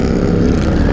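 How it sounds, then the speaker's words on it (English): A 2018 Triumph Speed Triple 1050 S motorcycle engine gives a steady, loud, close rumble for about a second, with no voices over it. "The engine sounds mean,"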